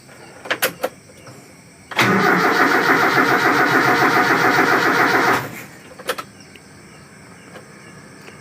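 An old carbureted Toyota 5K car engine is cranked by its starter for about three and a half seconds in a loud, even churning burst, preceded by a few faint clicks and followed by quiet.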